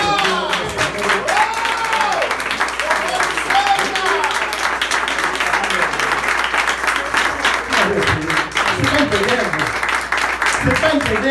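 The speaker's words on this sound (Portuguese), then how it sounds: "Quem pode aplaudir?" A church congregation at a worship service claps loudly and continuously, with shouted voices and a preacher's speech rising over the steady applause.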